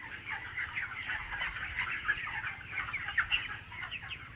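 Hens cluck steadily in a poultry shed whose litter has worn down to bare soil, a dense overlapping chorus of many birds at close range with a few louder squawks.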